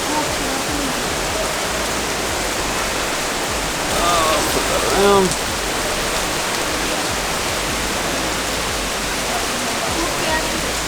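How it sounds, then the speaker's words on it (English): Heavy tropical rain pours down outdoors at Batu Caves, a steady broadband hiss filling the whole clip, with a brief spoken voice in the middle. "It is absolutely pouring down."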